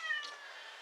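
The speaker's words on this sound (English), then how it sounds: "If you can hear the meowing, that's the cat desperate to come in for some reason." A cat meows to be let inside, one short plaintive call near the start that trails off, fairly faint and indoors, with no talk over it.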